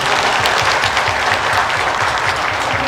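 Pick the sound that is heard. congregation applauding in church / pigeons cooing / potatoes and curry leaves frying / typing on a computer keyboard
congregation applauding in church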